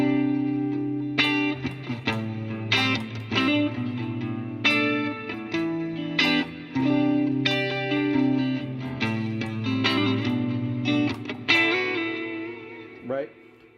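An electric guitar with effects plays a fill, sustained chords and picked notes ringing with reverb, loud and close, with brief pauses between phrases.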